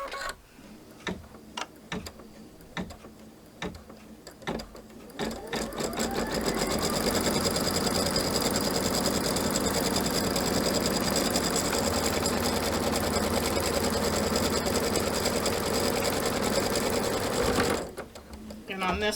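A sewing machine stitches a pinwheel patriotic quilt block pillow: a few separate ticks and short bursts first, then a long, loud, steady run of stitching that stops abruptly near the end.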